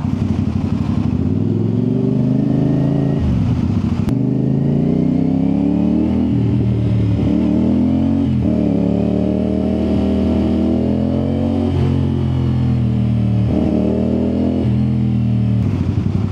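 A CFMoto 450 motorcycle engine drones loudly and continuously while riding through congested city traffic, its pitch rising and falling with throttle changes and a brief sharp click near the start.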